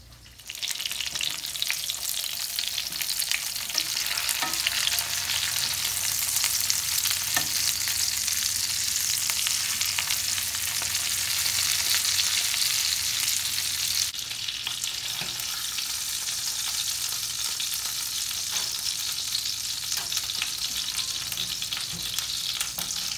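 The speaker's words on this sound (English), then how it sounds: "I'll finish frying the rest" Chicken cutlets fry in a pan with a loud, steady hiss and crackle that holds for the whole stretch, with a few faint clinks of utensils and no talking.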